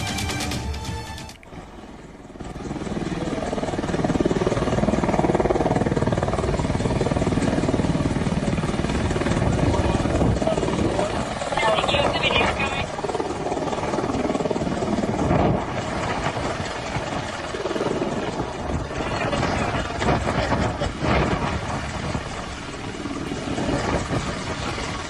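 An Apache AH-64E combat helicopter in flight gives a steady, dense rotor-and-engine roar that holds at a constant level for about twenty seconds, with no talking.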